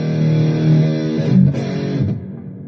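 Sustained electric guitar chord through a Donner Arena 2000 multi-effects pedal's reverb, ringing with a wash of reverb, a couple of notes changing before the sound fades into a lingering tail.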